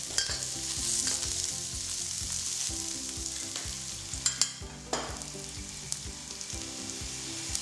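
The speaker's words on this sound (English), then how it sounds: "fry 8 slices of ginger and 8 cloves of roughly chopped garlic till it's fragrant" Sliced ginger and roughly chopped garlic frying in cooking oil in a pan, a continuous close sizzle with occasional scrapes and clatters of stirring, no voices.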